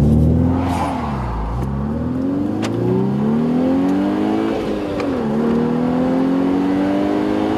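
VW Golf R accelerating hard from a standstill toward 60 mph, engine revving in rising sweeps between gear changes up to the redline limiter, loud and close, with a brief spoken remark.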